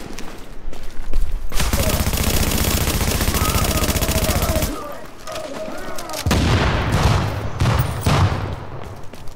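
Video game gunfire from the player's weapon: long rapid automatic bursts, loud and sustained, a short lull, then more scattered shots with booming echoes.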